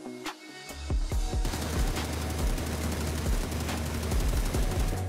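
Beryl assault rifle firing full-auto in PUBG, standing spray: a rapid, loud stream of gunshots running continuously for several seconds after a brief quiet start.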